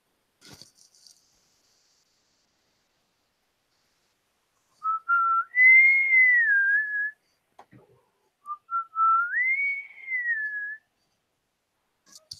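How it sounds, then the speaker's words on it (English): A person whistles two short rising-and-falling tunes alone in an otherwise quiet room, each phrase lasting a couple of seconds with a pause between. "I know you hate when I whistle."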